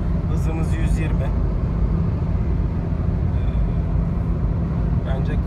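Steady broadband wind and road roar inside a Citroen C-Elysee cruising at 120 km/h on the highway, a constant dense rush with low rumble throughout, with brief faint voice fragments over it.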